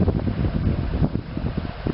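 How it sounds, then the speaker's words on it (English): Strong wind gusts across a lakeside campsite in the Boundary Waters in fall, a steady loud roar buffeting the microphone throughout with no voices. "it's been real windy today"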